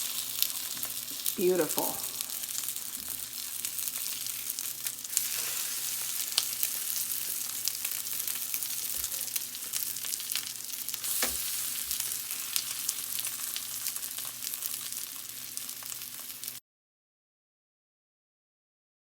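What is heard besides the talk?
meat jun pan frying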